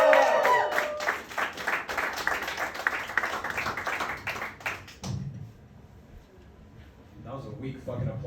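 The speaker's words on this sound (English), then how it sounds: "That was a weak fucking applause for me" Crowd applause for a comedian taking the stage at a live stand-up gig, dense and steady for about five seconds before dying away into a quiet room.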